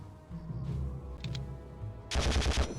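Machine gun nest firing in the Conflict: Desert Storm video game, a loud sustained burst of automatic fire near the end over a low rumbling game soundtrack.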